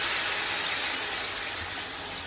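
Water poured into a pot for rice while cooking choliya pulao, a steady broad splashing gush that holds at an even level and tapers slightly, with no voices.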